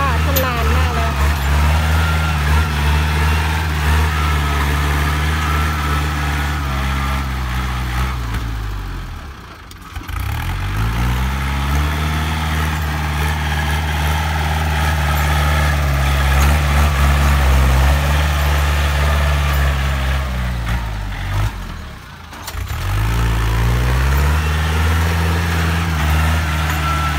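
A car engine drones steadily while driving, loud and close from inside, its pitch sagging and recovering twice as the car slows and speeds up again; someone talks over it at times.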